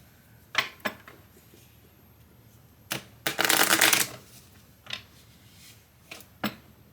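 Homemade alchemy oracle cards are shuffled in a few brisk papery bursts, with one long riffling flutter in the middle and short flicks around it. The sound is close and clear, and nobody speaks.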